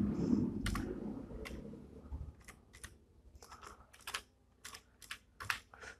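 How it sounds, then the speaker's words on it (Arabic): Someone types a router password on a computer keyboard: scattered, quiet key clicks in short irregular bursts after a brief low rumble at the start, with no voices. "هبدا اكتب الباسورد اللي انا مغيره"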